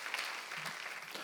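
Church congregation clapping during a Sunday worship service, a brief, faint, even patter of many hands.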